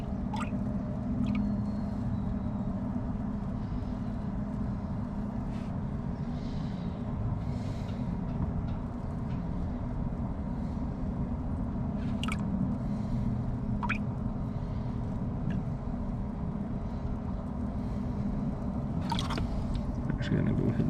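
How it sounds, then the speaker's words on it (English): Water drips and trickles from a gold pan full of black-sand paydirt, small splashes and sloshing over a steady background rumble, with a person talking throughout. "gotta get a little bit of that water out."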